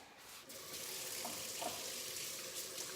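Tap water runs into a sink as hands are washed at home, a steady close rush that swells slightly once the flow settles, with faint splashing under it.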